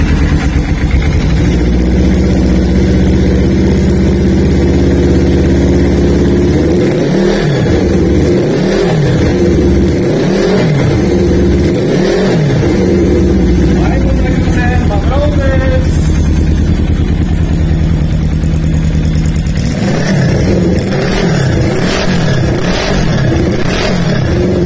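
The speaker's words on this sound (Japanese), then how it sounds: "エンジン始動いきたいと思います。" A Suzuki GS400 motorcycle with a chrome collector exhaust cranks and starts, then idles with a loud, steady throb and several blips of the throttle, rising and falling repeatedly close by.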